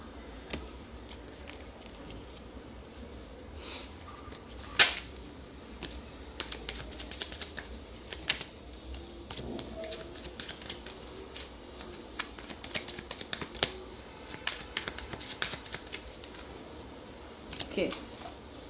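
Tarot cards are shuffled in a rapid, uneven series of crisp riffling flicks and snaps that continues for the whole stretch. A soft room hiss sits underneath.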